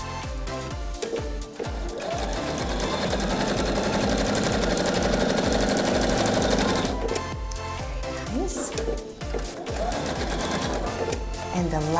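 A sewing machine stitching a welt pocket runs in a continuous close, loud whirring clatter, then slows into shorter stop-start bursts as the seam is finished and backstitched.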